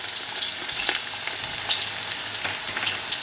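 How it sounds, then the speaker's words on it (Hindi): Chopped onion frying in hot ghee for a Maharashtrian Saoji mutton curry, giving a steady, close crackling sizzle with small pops and stirring clatter throughout, no voices. "ये चॉप्ड प्याज है। हमारा घी गर्म हो चुका है।"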